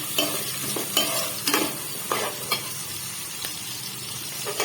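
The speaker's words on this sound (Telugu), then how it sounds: "ఇప్పుడు ఇందులో ఉల్లిపాయలు వేసుకుందాం. ఉల్లిపాయ వేగనివ్వండి బాగా." Onions with green and dried red chillies fry in oil, sizzling steadily while a utensil stirs and scrapes the pan in roughly half a dozen short strokes, close by, with no voices.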